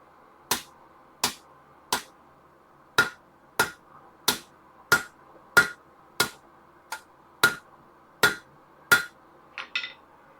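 Hammer blows forging hot steel into a garden trowel handle, about fourteen sharp ringing strikes at a steady, evenly spaced rhythm, close and loud, with a quick double tap at the end and no talk.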